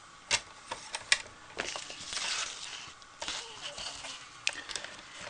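Cardstock being cut for a handmade card: a series of crisp clicks and short scraping slices at close range, irregular and fairly quiet.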